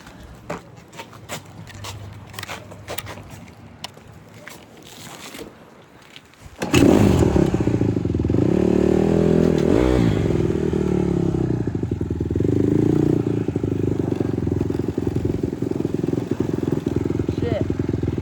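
A Honda CRF150R dirt bike engine starts up and revs loudly, then drones steadily close by as the bike is ridden with its chain loose, with clattering and a rider's voice heard before it fires up.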